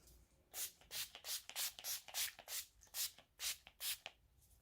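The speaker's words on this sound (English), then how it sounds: "So today, NYX Dewy-Finish Setting Spray, and I'll spray this." A rapid series of about a dozen short hissing sprays of NYX Dewy-Finish makeup setting spray onto a face, close and fairly loud, pulsing in a quick, steady rhythm.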